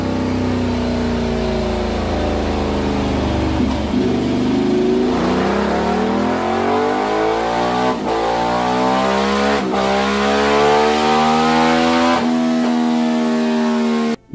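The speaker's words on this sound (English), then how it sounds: "That Testastrada engine sounds downright mean." A Ducati Diavel motorcycle with a Testastretta V-twin engine revs hard and close, its deep pitch rising and falling through several throttle blips, loud and alone with no talk.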